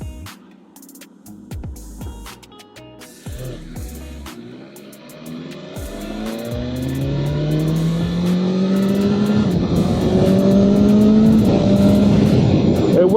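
New BMW S1000RR sport motorcycle on a city ride, engine revving with rising pitch sweeps, growing louder and more sustained as it accelerates through the gears, heard close and alone.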